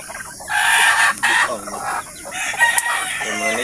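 Native hen clucking close by in a backyard farm, repeated throaty clucks and calls with a rooster-like cry, over light background noise.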